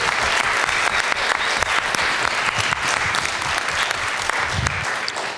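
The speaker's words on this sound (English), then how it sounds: "why don't we have a round of applause for this really interesting panel this evening" A symposium audience claps for a panel, with dense, loud, continuous applause from many hands filling the room and keeping an even level before it tapers slightly at the end.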